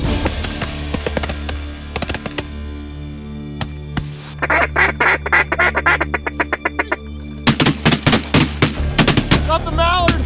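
Shotgun blasts during a mallard duck hunt outdoors, several sharp loud shots in clusters mixed with duck quacking and calls, with a voice speaking between them.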